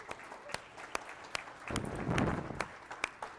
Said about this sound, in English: Let's give them a round of applause, because this is awesome.